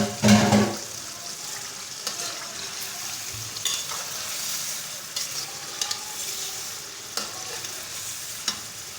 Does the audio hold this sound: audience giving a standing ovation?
no